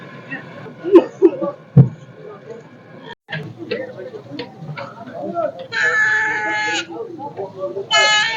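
Sheep bleat at a livestock market in Zharkent, with several nasal calls near and far among the crowd's background chatter and voices.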